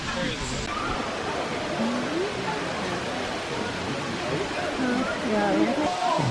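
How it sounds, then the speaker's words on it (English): A small waterfall in Zion National Park pours into rock pools below, giving a steady, broad rush of splashing water that holds level throughout, with a voice talking over it. "A little waterfall here,"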